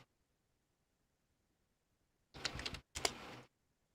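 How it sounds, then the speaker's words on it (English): Two quick bursts of rapid typing on a computer keyboard, close and fairly soft, follow a long silent stretch, with a brief pause between the clattering runs. "I'm typing too fast"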